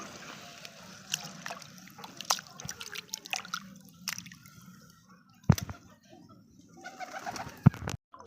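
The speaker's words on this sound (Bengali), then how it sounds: "আর পায়রা এখানে খাচ্ছে দেখো" Pigeons coo softly while eating, water drips and small pecking taps sound nearby, with a couple of sharper knocks.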